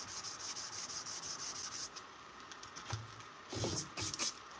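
Hand sanding a forged knife blade with sandpaper gives a steady, continuous abrasive rubbing that runs near and alone, with short harder strokes toward the end.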